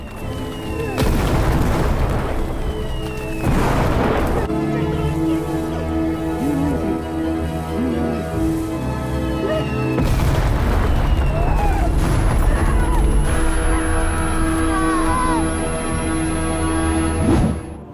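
Battle noise with Russian soldiers firing, booming explosions and bursts of gunfire rolling over a dense, continuous din, heavy impacts landing around 1, 4, 10 and 13 seconds.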